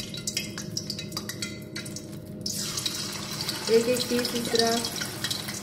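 Marinated fish pieces drop into hot oil for deep frying, giving a few clinks before a steady broadband sizzle swells up and bubbles on, while someone talks over it.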